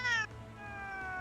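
A cat meows twice, a short bright meow followed after a brief pause by a longer, drawn-out one, fairly close and clear with no talking.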